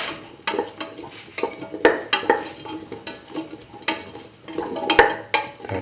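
A spoon stirs curried beetroot and mung bean stew in a metal pot, scraping and clinking against the sides in uneven, repeated strokes, close and fairly loud, with no voices.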